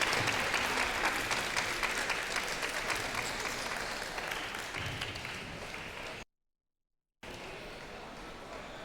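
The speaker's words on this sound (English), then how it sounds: "you can hear the crowd now" Crowd at a collegiate table tennis team match applauding in dense, steady clapping that fades slightly over several seconds, then breaks off briefly into silence before quieter clapping resumes.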